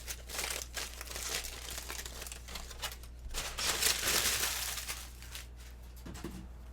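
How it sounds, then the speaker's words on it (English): Aluminum foil is peeled off baked potatoes, a close, continuous crinkling and crumpling with bursts of louder rustling. "remove those potatoes from that foil"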